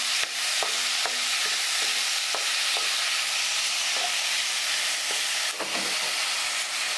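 Spices and tomatoes stirred together in a pan over a low gas flame, a steady loud sizzle and hiss of frying with irregular scraping taps of the spoon, close and without talk.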